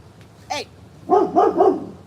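Remus, a dog, gives one short yelp followed by a quick run of three loud, close barks with no talk.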